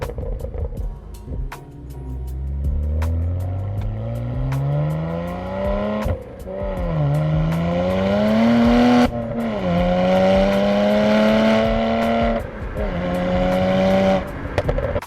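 A lightly modified BMW E92 with bolt-on upgrades accelerates hard from inside the cabin, its engine note rising through each gear with brief dips at the shifts, loud and continuous with no talking.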